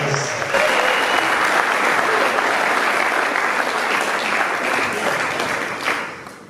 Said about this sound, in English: Give Dennis a great big round of applause.